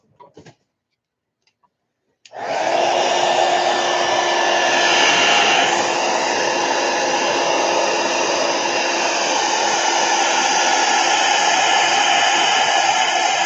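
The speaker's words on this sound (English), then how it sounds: "I'm going to blow it again real quick because we're almost dry." After a couple of faint clicks, a hair dryer switches on and blows steadily and loudly at close range over a watercolor painting, a continuous whooshing whine that holds for about eleven seconds.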